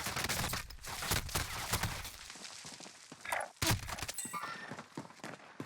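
Rapid gunfire crackles through a Warzone video game match, with dense bursts of shots and impacts at moderate volume, thinning into scattered single cracks and thuds.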